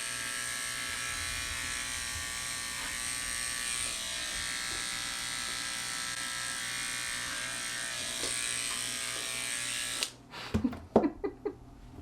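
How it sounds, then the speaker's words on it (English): Electric dog hair clipper buzzing steadily and close while trimming a dog, a continuous drone for about ten seconds before it switches off and a few soft handling knocks follow. "So I'm going to use the clipper again."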